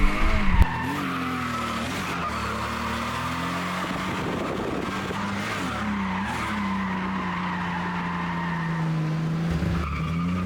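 Drift cars run in a three-car tandem with a continuous loud skidding tire squeal and strained engines, steady and close throughout after a brief thump at the start.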